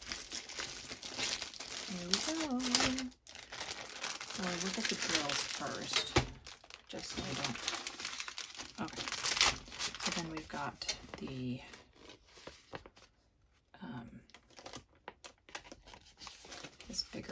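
Plastic wrapping crinkling and crumpling up close as a painting is unboxed and pulled out of its packaging, with bursts of rustling and tearing under intermittent speech.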